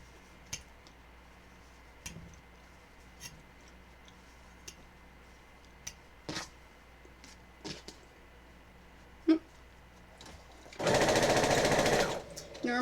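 A sewing machine stitches a horror quilt in one loud, dense burst of about a second and a half near the end, after a stretch of scattered light clicks and taps in a quiet room.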